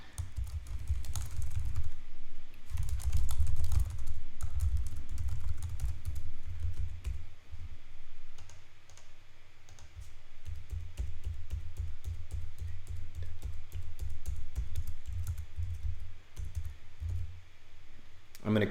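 Credit card details being typed on a computer keyboard: steady runs of close, crisp key clicks in uneven bursts with brief pauses, continuing throughout.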